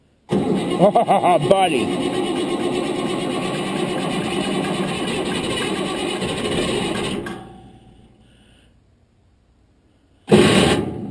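An Allis Chalmers tractor engine cranks in a few uneven bursts, catches and runs with a loud, steady rumble, then dies away before a second burst starts at the end; someone speaks briefly over it.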